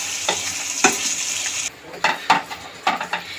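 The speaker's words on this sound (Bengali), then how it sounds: "একটু নাড়িয়ে নেব" Fish head curry with papaya and potato is stirred in a hot pan, with a spoon scraping and knocking against the metal in several separate strokes over a steady sizzle.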